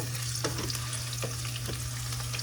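Small alamang shrimp sauté in a pan, giving a soft continuous sizzle and light scattered stirring clicks over a low steady hum, with no voices.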